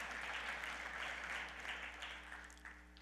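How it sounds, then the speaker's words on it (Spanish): Church congregation applauding during a gospel service, an even rush of many people clapping together, moderately distant over a low steady electrical hum. "Dale un aplauso al Señor, amén."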